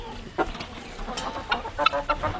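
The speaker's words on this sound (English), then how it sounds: "the chickens are really loving the new roost. They're already getting in here, getting situated" Several chickens cluck and murmur in short, scattered bursts as they settle onto a new roost inside a homestead coop, close and moderately loud with no talk.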